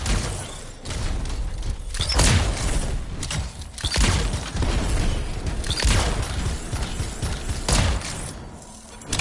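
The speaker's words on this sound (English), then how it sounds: "It'll be a contained explosion" Canister explosion in the video game Anthem, heard as a dense series of heavy booming blasts and rumbling crashes that repeat through the clip, loud and close with no voices.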